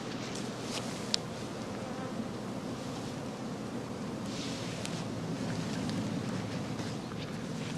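Bees hum steadily at a heather skep apiary, a dense continuous insect drone at moderate level with a brief sharp click early on.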